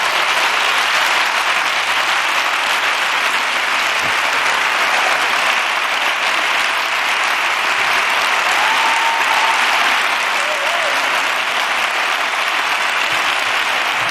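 Sustained applause from a lecture audience, a dense, even wash of clapping hands that stays loud and steady throughout with no break.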